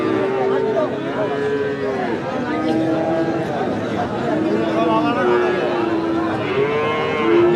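Australian calves moo repeatedly at a cattle market in Hazratpur, with loud, drawn-out calls close by over steady crowd chatter and people talking throughout.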